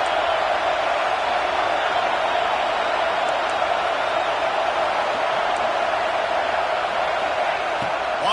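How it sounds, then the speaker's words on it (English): A home crowd at a football game roaring steadily and loudly, a dense continuous wall of cheering with no break. "how nice is it to have the home crowd going absolutely bananas?"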